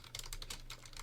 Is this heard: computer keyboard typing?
yes